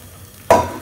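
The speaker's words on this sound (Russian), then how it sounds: "На сухую сковородку мы высыпаем наши грибочки" A sudden clattering rush as forest mushrooms spill into a dry frying pan, loud and close, then fading into a soft sizzle.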